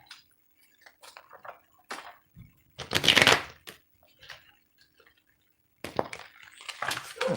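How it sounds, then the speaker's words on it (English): Tarot cards are shuffled by hand, producing scattered soft riffling and flicking bursts, with one louder, longer shuffle in the middle and another run near the end, close and fairly quiet. "Shuffle them better than that."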